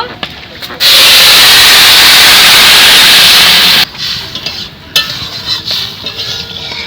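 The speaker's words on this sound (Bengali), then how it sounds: "মুসুরির ডাল হালকা করে ভেজে নিয়েছি এখন আমি জল দিয়ে দেব" Water poured into a pot of lightly fried red lentils gives a loud, steady rushing hiss for about three seconds, then fades to quieter sizzling and bubbling with small clinks.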